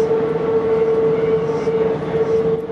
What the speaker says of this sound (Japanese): 線路と車輪がきしむ音が聞こえます。